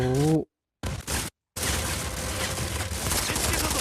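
Gunfire in the shooter game Modern Combat 5: Blackout, a dense fusillade after brief bursts and cut-outs, loud and continuous near the end.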